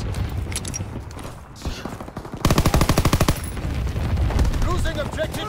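Rapid bursts of machine gun fire in a video game battle, a dense run of sharp repeated shots in the middle, with scattered game sounds and voice callouts around it.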